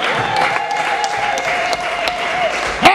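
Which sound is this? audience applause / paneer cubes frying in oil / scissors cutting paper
audience applause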